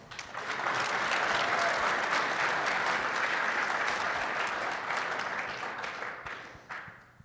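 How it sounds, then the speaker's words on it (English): Applause from an audience at a 2024 AGM panel, a dense sustained wash of many clapping hands that swells quickly, holds loudly for several seconds, then tapers off near the end. "Let's give them a big round of applause."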